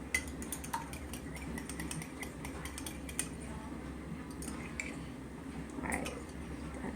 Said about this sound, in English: And I'm just going to give it a good whisk while it's still together.